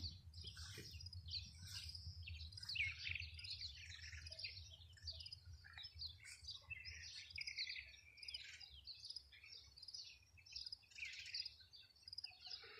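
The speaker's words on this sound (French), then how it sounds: "On va écouter un petit peu le son des oiseaux ensemble maintenant." Faint chirping and trilling of several birds, overlapping and continuous, over a low background rumble; no voices.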